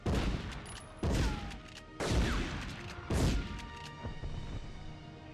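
Four heavy grenade explosions from a PS1 shooter game, each a sudden loud boom about a second apart with a rumbling decay, the last trailing into lingering low-frequency rumble.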